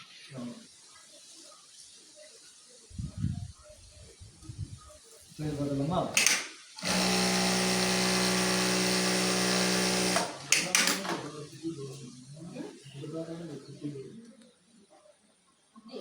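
A Singer sewing machine stitches through eight layers of cloth in a loud sustained burst of rapid mechanical whirring, bracketed by shorter clattering runs and handling noises, with a voice talking over the quieter stretches.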